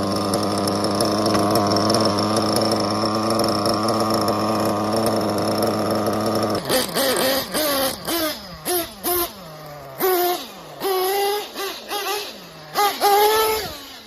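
A Kyosho racing kit nitro RC car engine idles with a steady high buzz, then revs in short repeated bursts that rise and drop, loud and close.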